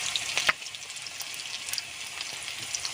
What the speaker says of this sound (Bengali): কড়াইতে দিয়ে দেবো সরষের তেল, দিয়ে দেব কাঁচা লঙ্কা চিরা,